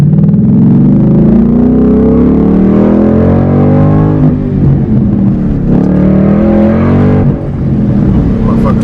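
A Ford Mustang with a 5.0 Coyote V8 and exhaust cutouts, revving with a loud, close, deep droning roar whose pitch rises and falls steadily over several seconds.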